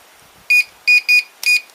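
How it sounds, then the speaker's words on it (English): A garage door opener unit gives four short electronic beeps, the second and third close together, sharp and clear over near silence. "It'll beep at you when you connect it."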